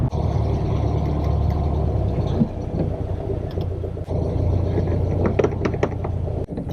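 A home-built VW Beetle runs while driving, its engine giving a steady low rumble throughout with faint clicks and rattles from the car.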